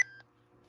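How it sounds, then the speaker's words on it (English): A single short electronic beep from a RadioShack 12-259 weather radio as its alert tone is switched off, clean and brief over a faint low hum. "you hear a beep like that"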